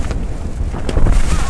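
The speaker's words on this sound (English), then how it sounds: "Almost got a gust of wind there." Wind gusting straight into the microphone outdoors at a baseball game, a steady low rumbling buffet that swells louder toward the end, with no speech over it.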